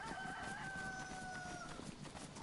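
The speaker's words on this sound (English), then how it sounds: "I hear chicken." A chicken in the survival video game DayZ calls from fairly close by with a drawn-out, crowing-like cry over steady outdoor background noise, with no one talking.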